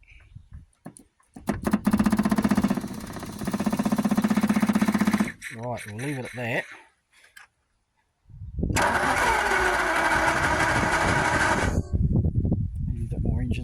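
A Daimler 250 V8 car engine cranking and firing in two long bursts with a short gap between them, loud and close, followed by brief talk.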